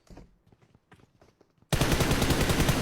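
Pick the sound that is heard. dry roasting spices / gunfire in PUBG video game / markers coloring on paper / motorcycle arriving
gunfire in PUBG video game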